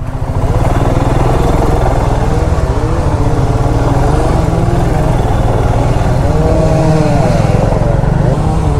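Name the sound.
motorcycle riding past a fallen tree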